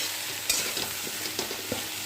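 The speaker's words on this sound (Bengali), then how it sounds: "এবার নাড়তে থাকবো" Jujube pickle with ground coriander, chilli powder and dried red chillies being stirred in a pan, a continuous sizzle broken by repeated scraping strokes of the spoon, close and moderately loud with no voices.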